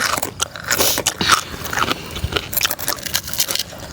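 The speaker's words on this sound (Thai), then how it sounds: "แคบหมู มันจะมีความกรุบกรอบ" Close, loud crunching bites into crispy pork rinds, a quick series of sharp crackles and chewing with no talking.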